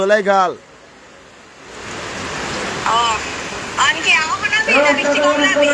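Steady rain hisses over an open goat market, a broad wash of noise that sets in after a brief lull and keeps going while people talk nearby.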